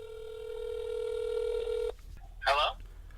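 A phone call is placed during a podcast recording: a steady dial or ringback tone holds for about two seconds and stops, followed by a brief burst of a voice answering on the line.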